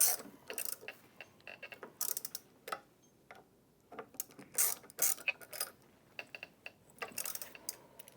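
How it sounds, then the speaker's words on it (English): A ratchet tightens a bolt on an IKON buffer brush mount, producing quick, close bursts of crisp clicking with short pauses between strokes. "tighten the bolt, and also finish tightening your bearing mount hardware we installed earlier."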